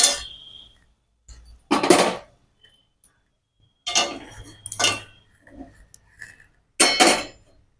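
Metal pot and spoon clatter in a home kitchen as cooked bitter-gourd greens chorchori is taken off a gas stove; a few short clanking bursts, close and moderately loud, separated by quiet gaps.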